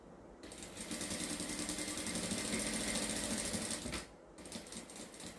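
Sewing machine running steadily while stitching a baby's shoulder cloth, a loud, close, continuous whirring hum that stops briefly near the end, then resumes.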